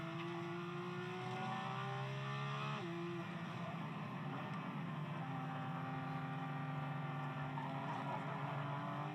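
Porsche 992.2 GT3 on a race track, its engine droning loud and steady with a shift in pitch near three seconds as the car strikes a curb, followed by a continuous broadband rumble with no talk.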